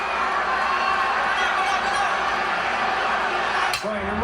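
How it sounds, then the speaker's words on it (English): A dense, roaring crowd fills a boxing arena during an early round, a loud sustained wash of cheering and shouting with no letup, a brief dip near the end. "The crowd is at a high pitch. It's a frenzy."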